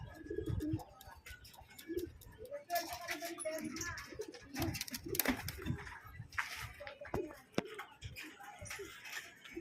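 Racing pigeons at a backyard loft during summer training coo in soft, throaty bursts, close and fairly quiet, with other birds and scattered background noises mixed in.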